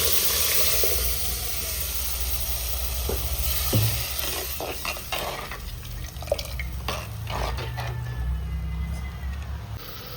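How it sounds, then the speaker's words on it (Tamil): Tamarind water pours into a pan of sautéed tomatoes for a fish curry, giving a sustained liquid sizzle and hiss with dripping and light clattering. "தக்காளிலாம் வதக்கிடுது, புளி கரைச்சி வச்சுட்டு ஊற்றிக்கிறேன்."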